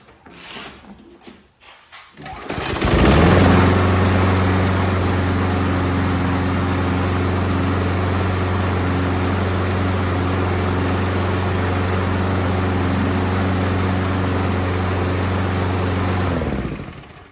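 A 16-year-old Toro Recycler 22-inch Personal Pace walk-behind lawn mower starts after a new filter, then settles into a steady, close, loud idle-like drone, running slightly low on RPM, with no talk.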